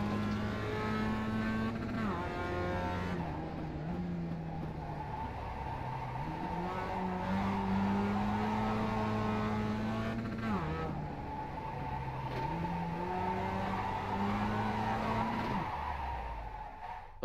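Mazda MX-5 in the iRacing sim at Okayama drifting and sliding, a steady engine note rising and falling through gear changes with tyre scrub and squeal layered over it, loud and continuous throughout.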